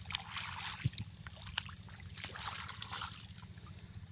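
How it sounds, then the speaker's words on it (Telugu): Irrigation water pumped through pipes into a field channel, a faint trickling, gurgling flow over a steady low mechanical hum, with scattered splashes, no voices. "నీళ్ళు ఎంత ఫోర్స్గా వస్తున్నాయో."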